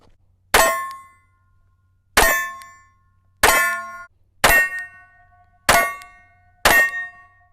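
A Glock 43 pistol fitted with a KT Crafts compensator fires outdoors: six sharp, loud reports spaced about a second apart, each followed by a short metallic ring that fades before the next.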